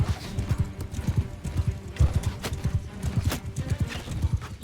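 Horses gallop in a Mount & Blade II Bannerlord battle, hooves pounding in a fast, steady clip-clop rhythm close by, with an occasional whinny.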